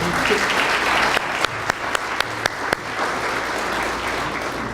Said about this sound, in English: It's been 17 years, so it's certainly worth applauding.